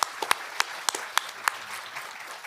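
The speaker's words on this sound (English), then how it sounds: "Let's give them a round of applause." A few people at a small-business technology panel in Bastrop clap for the panelists, a handful of separate, moderately quiet claps at a steady pace that die away within about two seconds.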